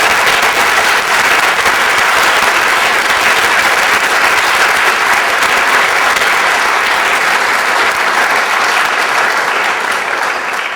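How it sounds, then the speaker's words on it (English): Dense, loud applause from an audience at a university colloquium on open-source software, sustained clapping that holds steady throughout and tapers slightly at the end. "So I think we should give him a round of applause for nevertheless speaking."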